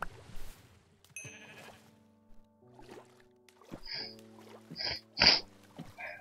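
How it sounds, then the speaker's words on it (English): Sheep bleating in a video game, several short nasal bleats that grow louder toward the end, mixed with faint game tones and light clicks in a quiet setting. "Sheep, give me a wool."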